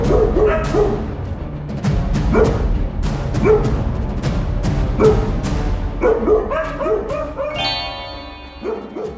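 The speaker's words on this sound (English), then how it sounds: "a Belgian Shepherd dog that barks" A Belgian Shepherd barks loudly and close by in a rapid series of sharp, repeated barks, with a few higher yips and whimpers mixed in toward the end.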